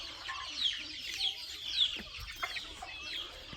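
Native country chickens clucking softly as a group while pecking at feed, a steady scatter of short calls at moderate distance with no talking.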